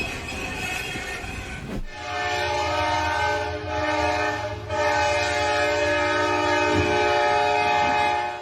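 A train collides with a tow truck stuck on a railroad crossing: a sharp crash bursts out, then a loud, steady horn and rumbling railcars carry on, with a second jolt midway and squealing wheels.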